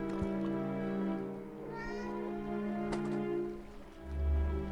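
A cat meowing in the horror game The Dark Rites of Arkham, short faint mews over a steady droning ambient hum with soft rain-like patter.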